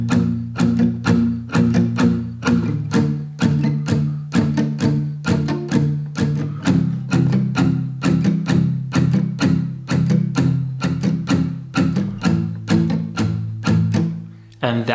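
An acoustic guitar strums the verse chords of a song in a steady repeating rhythm, close and alone, with the chord changing partway through.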